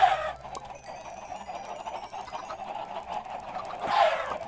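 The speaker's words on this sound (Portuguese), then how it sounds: "agora tem as galinhas ainda" Minecraft chickens cluck in short, scattered bursts, with a louder cluck near the start and another near the end over a quiet in-game background; no talk.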